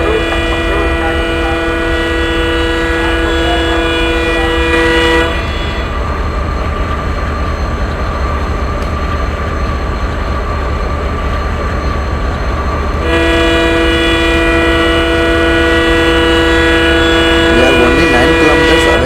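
Indian railway station with a train passing and sounding its horn: a steady loud run of rolling wheels and rail noise fills the whole stretch, with sustained horn tones at the start and end, while someone talks over it.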